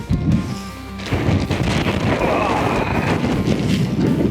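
A strong gust of wind sweeps across a hillside at a wild campsite, roaring and buffeting the microphone in heavy, rising surges that stay loud to the end.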